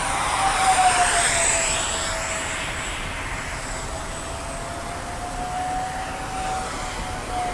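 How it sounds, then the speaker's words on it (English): An Arrows Hobby MiG-29 Fulcrum 64mm electric ducted-fan RC jet on a 4000 lipo flies past, a steady high-pitched whine that rises and shifts in pitch as it passes and moves off, loud and continuous with no talking. "Nice flying plane."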